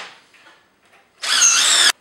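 A power drill drives a screw into a wooden trestle, a short loud whirring burst that starts abruptly after near silence and cuts off cleanly just under a second later.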